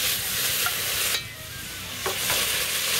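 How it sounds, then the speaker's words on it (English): Bacon and vegetables fry in bacon fat in a pot for a sriracha beer chili, a bright continuous sizzle with a brief dip and stirring scrapes, close up and without talk. "So we get our bacon cooked up. Get some of that bacon fat in there to help redden down our veggies."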